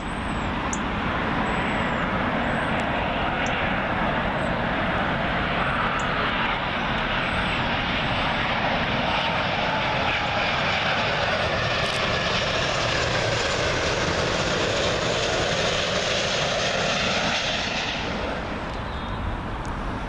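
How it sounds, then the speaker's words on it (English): A heavy American Airlines Boeing 777 arriving from Charlotte, North Carolina roars loudly and continuously on approach to Heathrow runway 27L, a broad steady jet rumble and whine that tapers slightly at the end. No voices. "big heavy American Airlines 777"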